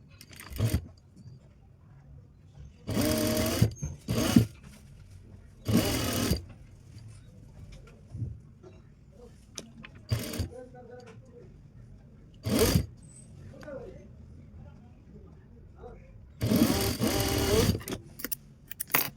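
Sewing machine stitching a V patti neckline on fabric, running in several loud bursts of a few seconds each, separated by quieter gaps with small handling noises.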